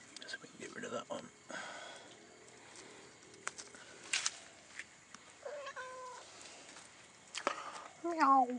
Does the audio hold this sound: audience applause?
no